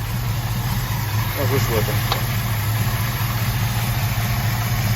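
1969 Camaro engine idling while it warms up, a steady low rumble running throughout, with a brief spoken question over it.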